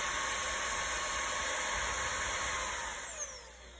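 LG CordZero A916 cordless stick vacuum running at maximum turbo setting, a loud steady high-pitched whine and airflow hiss that holds, then spins down and fades toward the end, with no one speaking.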